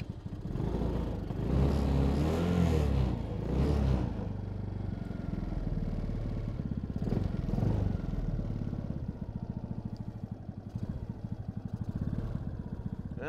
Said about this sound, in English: I just attempted to do a top speed run in a little Coolster Jeep and had a little smoke come out.